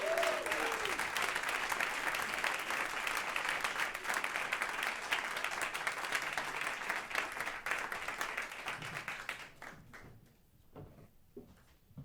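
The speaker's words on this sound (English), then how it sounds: "let's give a warm round of applause to our first panel" A crowd at a live climate event claps warmly for a panel, dense and sustained applause that thins out and fades into scattered claps near the end.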